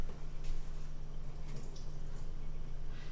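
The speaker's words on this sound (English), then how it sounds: "I'm just going to dump out some of the water." Blanching water from vegetable cooking, with onion tops, is poured off into a bowl or sink, giving a steady splashing, trickling stream close by with a few brighter drips, and no talking.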